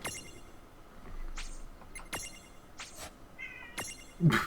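A cat meows several times in short, spaced calls, close by, with a faint jingle near the end and quiet room background, no speech.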